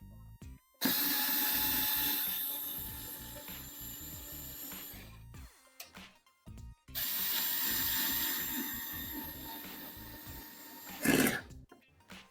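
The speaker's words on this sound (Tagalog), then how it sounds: "napakaganda at napakalaking tulong nitong electric screwdriver, especially sa mga mahilig magputingting dyan" An INGCO 8V lithium-ion cordless electric screwdriver drills into wood in two sustained whirring runs, close and fairly loud, with a short gap and a clunk between them and a brief rattle near the end.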